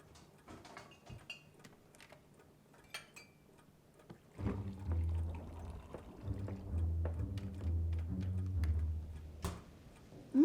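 Water poured into a glass in an indoor dinner-party setting, a steady liquid stream starting partway through after faint clinks and taps, running on with small tonal gurgles as the glass fills.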